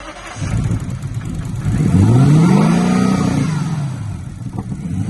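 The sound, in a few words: Lexus LS 460 engine starting with throttle wide open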